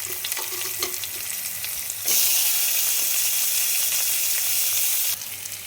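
Onions and green chillies fry in oil for dry poha upma, a steady broadband sizzle that jumps louder for about three seconds as something is stirred in or added, then settles back; no talking.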